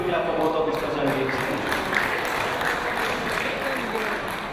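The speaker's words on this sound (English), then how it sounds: "So I like you people to clap for both of these personalities." Audience applause at a Sir Syed Day gathering in Qatar, a dense, even wash of clapping from a crowd held steady at moderate level throughout, with no talk over it.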